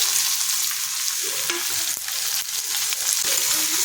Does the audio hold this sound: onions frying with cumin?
yes